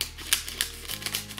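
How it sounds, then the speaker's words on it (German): Green scissors snip open a packet of fruit gummies in a series of sharp, crisp clicks and cuts, close and fairly loud, with a faint low hum behind. "Wir nehmen mal die grüne Schere und öffnen das mal."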